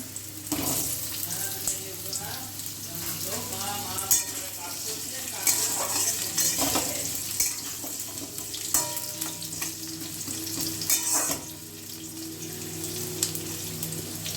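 Steady sizzling of potato balls frying in hot oil, continuous throughout with occasional stirring clatter and clinks.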